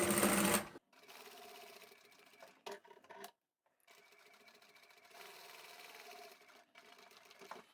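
Sewing machine running in short bursts while back-stitching on a fabric notebook pen holder pouch, a rapid mechanical whirr that stops and restarts with brief pauses and quiet gaps between runs.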